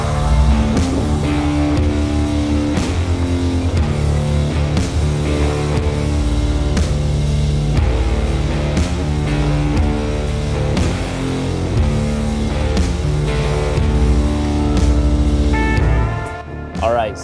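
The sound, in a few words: Jeep climbing a 30-degree RTI ramp with anti-rock sway bar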